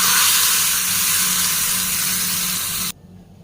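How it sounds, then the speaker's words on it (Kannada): Loud, dense sizzling hiss of mustard seeds hitting hot oil, steady for about three seconds before abruptly dropping away. "ಇದಕ್ಕೆ ಸಾಸಿವೆ ಹಿಂಗಿನ ಒಗ್ಗರಣೆ"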